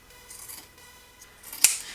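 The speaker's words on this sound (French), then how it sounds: "je coupe tout le tissu en trop, donc là je coupe pour les angles" Scissors snip through excess fabric during sewing, with faint rustling of cloth leading into one sharp, close metallic cut near the end.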